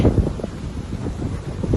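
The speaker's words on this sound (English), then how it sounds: "Winds gusting 50 to 60 kilometers an hour." Strong gusting wind outdoors in Brooks during a snowstorm, buffeting the microphone with a heavy low rumble that surges and eases throughout, loud and close.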